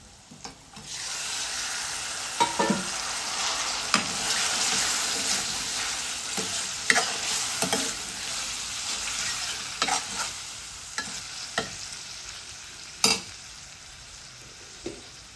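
Clams fry in a pan, sizzling steadily, with frequent scraping and stirring clicks from a utensil; no voices.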